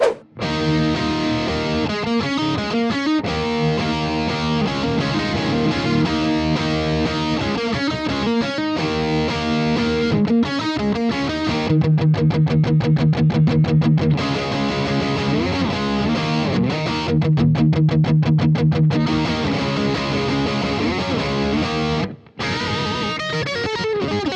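Heavily distorted electric guitar through a Boss GT-1000 Core multi-effects unit on a classic distortion preset plays chords and riffs continuously, thick and loud, with brief tremolo-picked stretches and no voices.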